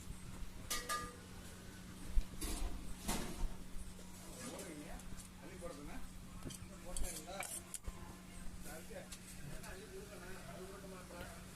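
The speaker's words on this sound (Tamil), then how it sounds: "அதை வந்து நல்லா வெட்டி வச்சுக்கலாம்." A knife chops onion and a small tomato on a board for a kothu sandwich of goat intestine and boti, giving repeated sharp, close cuts at an uneven rhythm over a steady low hum, with voices faintly in the background.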